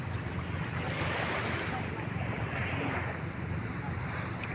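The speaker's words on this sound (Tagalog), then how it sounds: "Ang tubig ng kalikasan sa likod ko." Waves wash continuously against the shore outdoors, a steady broadband rush of surf with heavy wind buffeting the microphone and no clear voices.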